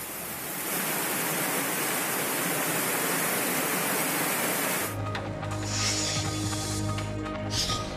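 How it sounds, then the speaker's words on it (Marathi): Heavy monsoon rain and flood water in Aurangabad district, Maharashtra, roar as a dense, steady wash of noise, then cut abruptly to a different rushing water scene with a low rumble. "औरंगाबाद जिल्ह्यात अनेक ठिकाणी मुसळधार पाऊस होतोय।"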